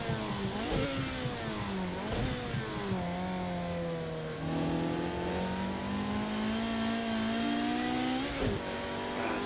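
Ferrari F40 with a turbocharged engine in the Project Cars 2 racing game at Les Essarts, roaring steadily with rising and falling revs through gear changes and brief lifts, loud and continuous with no talking.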